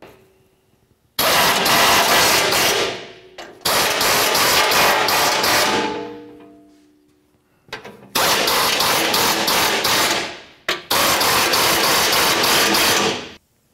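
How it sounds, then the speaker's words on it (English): A power tool tightening A/C condenser mounting bolts on a 2004-2015 Nissan Titan, four loud close bursts of whirring and rattling, each a few seconds long, separated by short pauses. "Once all of your mounting hardware is started, tighten it up."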